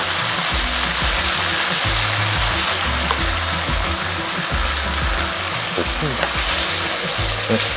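Steady sizzling and crackling of tomatoes frying in a hot pan for dal makhani, with occasional light clinks of stirring, continuous and close.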